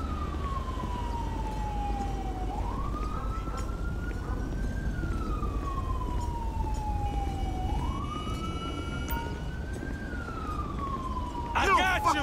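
An ambulance siren in GTA 5 wails in slow rising-and-falling sweeps, steady and fairly loud over a constant low traffic rumble, with a brief clatter near the end.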